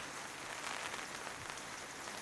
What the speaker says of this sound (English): The canvas, pitter-pattering with rain